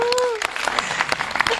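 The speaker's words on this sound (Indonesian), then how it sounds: "saya ingin tepuk tangan yang luar biasa untuk Michelle" An audience at a film press conference claps for Michelle, a short burst of scattered applause up close, with voices speaking over it.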